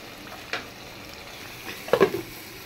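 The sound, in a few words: beef liver being sautéed in pan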